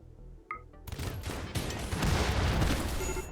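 Dense, continuous gunfire from tanks and flamethrowers in the video game Rimworld, a loud overlapping barrage of rapid shots and bursts that swells after a brief quieter opening and keeps building to the end.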